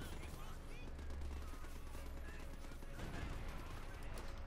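Machine gun fire in a Company of Heroes 2 1v1 match comes as a dense, continuous rattle under the constant din of battle, with a faint voice underneath.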